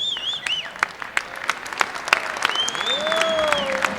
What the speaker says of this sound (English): a huge applause from the crowd here at DeVos